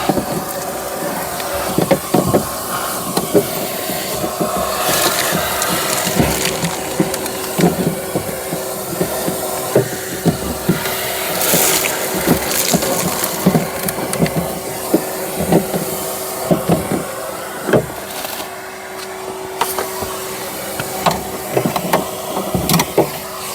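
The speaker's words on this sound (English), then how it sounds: "I just want to hoover out some more glass in there" A vacuum cleaner hoovers broken window glass out of the inside of a Ford Mondeo front door, a loud continuous whine and hiss broken by frequent sharp rattles and clicks of glass fragments being sucked up.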